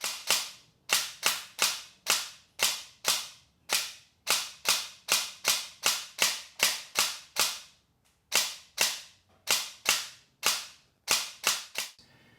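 Airsoft gun on semi-auto, fitted with an M100 spring and fed from Wells magazines, fires about two dozen sharp, loud shots in a steady rapid rhythm, each a crisp snap with a quick decay, with one brief pause partway through.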